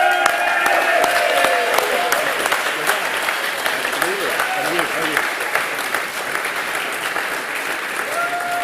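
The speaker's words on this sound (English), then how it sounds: "thank you all very much for clapping there." Sustained audience applause at a heritage awards evening, a dense, loud wash of clapping from a full room that holds steady throughout, with faint voices and a short tonal sound mixed underneath.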